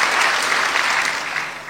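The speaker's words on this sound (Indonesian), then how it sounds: "tepuk tangan buat Tuhan." A church congregation applauding during a sermon, a dense, loud burst of clapping from many hands that carries steadily through and then eases slightly at the end.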